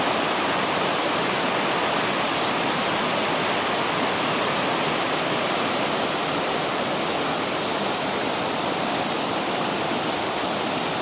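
The Big Quilcene River rushing along a hiking trail, a constant loud whitewater roar that stays even from start to finish, with no talking.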